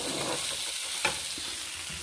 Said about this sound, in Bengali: অল্প একটু জল দিয়ে এটা কষে নিচ্ছি।